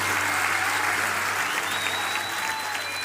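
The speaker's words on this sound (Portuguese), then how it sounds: "Você pode dar ao Senhor um forte aplauso pela decisão dele." A church congregation gives steady, dense applause after a sermon, loud and sustained throughout with a faint voice calling out over it.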